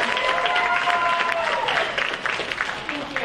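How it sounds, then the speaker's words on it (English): Applause from an event audience after a speaker named Betsy leaves the stage, dense and sustained clapping that thins slightly toward the end, with a voice speaking faintly over it. "So everybody give her a huge round of applause."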